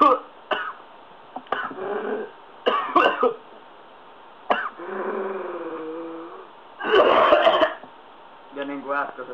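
Someone coughs and clears their throat in short, rough bursts after inhaling smoke, with brief speech and strained sounds between the coughs, close and fairly loud.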